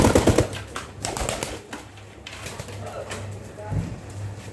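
Pigeons coo at a pigeon farm, soft repeated cooing under background noise and someone talking, with occasional wing flutters and clatter.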